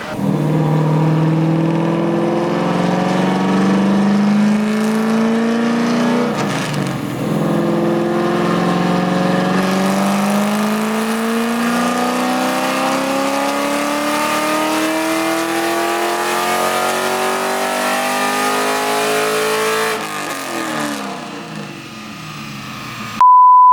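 A nitrous C5 Corvette engine revving hard and loud, with repeated rising pitch sweeps as it climbs through the revs for about twenty seconds, then the sound collapses abruptly as the engine blows up.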